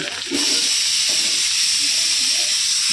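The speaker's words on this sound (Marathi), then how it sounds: "तेलात परतायचं आहे चांगलं. चांगलं कांदा शिजला." Onion frying in oil in a home kitchen pan, a loud, dense, continuous sizzle that swells just after the start and holds steady, with faint voices underneath.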